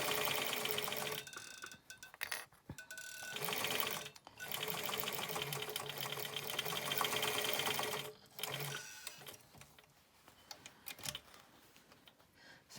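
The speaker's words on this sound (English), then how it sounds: "what I'm going to do also is a stay stitch over the elastic so it" A sewing machine stay-stitches over elastic on a shaped fabric face mask, running in several close, steady whirring bursts with short pauses between them and no voices.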